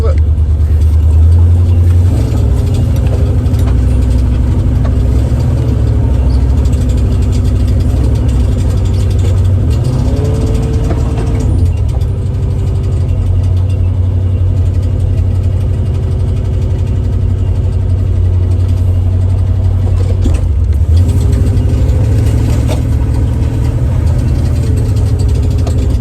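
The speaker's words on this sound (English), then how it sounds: "Sound like a new car, obviously, does it?" A Holden HQ car engine idles steadily and close up on its first drive out of the shed, a low continuous rumble running throughout with slight variations, while someone talks over it.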